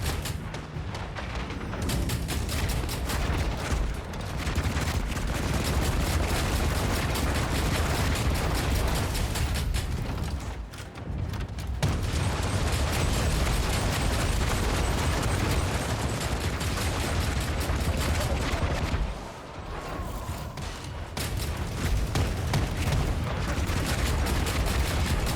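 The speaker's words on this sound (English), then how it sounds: "That seems like something to just blow up when I shoot it." Rapid gunfire and explosions in the mech game Hawken Reborn, a dense, loud, sustained clatter of shots and booms with two brief lulls, otherwise nearly continuous.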